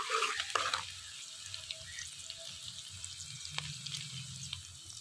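A small onion browns in half a cup of hot oil with a soft, steady sizzle and faint crackle, heard close and quiet, with a few light clinks at the start.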